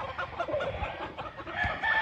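Chickens cluck on a Philippine farm where up to two hundred birds are kept, a busy overlapping flock chatter with a rooster-like call near the end, steady and fairly close.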